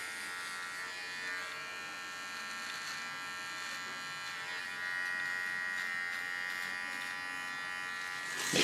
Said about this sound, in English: With my small clipper I clean the contour.